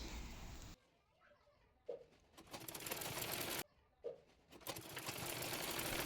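A sewing machine stitching a kameez in two sustained runs of rapid, even whirring, each started with a soft thump and separated by a brief quiet pause, close-up and fairly quiet.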